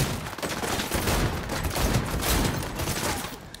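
Gunfire rattles through a firefight in the video game Cyberpunk 2077 as dense, continuous bursts of shots keep up for several seconds and then ease off near the end.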